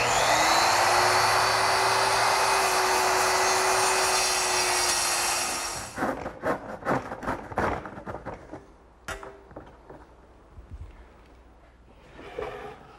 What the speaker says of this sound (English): I'm going to use my circular saw to cut that piece out